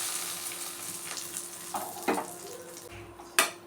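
Mustard seeds, two dried chillies and curry leaves are stirred as they fry in a pan for Navaratri sundal. A soft, quiet sizzle runs under a few sharp scrapes and clinks of the spoon against the pan.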